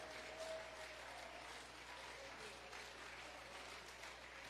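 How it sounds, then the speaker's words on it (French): A church congregation claps together in sustained, steady applause, a dense, even patter that fills the room at moderate distance, with no break. "Acclamez le Seigneur Jésus-Christ"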